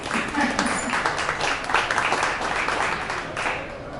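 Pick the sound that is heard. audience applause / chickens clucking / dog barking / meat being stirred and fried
audience applause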